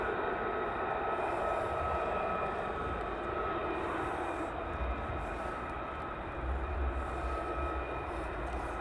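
F-15 fighter jets taxi at RAF Lakenheath during night operations, a steady loud engine roar and whine with a high sustained tone, continuous and fairly close, with no speech over it.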